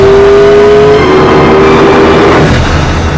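A car accelerates hard through Eau Rouge on a racetrack in appalling wet weather: a loud, close, steady whine gives way to a broad rushing roar, with no voices.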